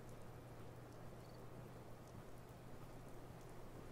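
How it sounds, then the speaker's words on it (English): Gentle rain falling in the video game Fallout 4, a steady, soft, even hiss of drops that holds constant throughout with no voices. "Water gently falls from the sky, a cleansing rain,"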